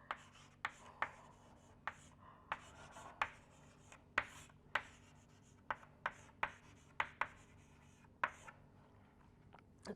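Chalk or marker taps and strokes on a board during a lecture on thin airfoil theory, with sharp, irregularly spaced clicks and short scratches, quiet and close.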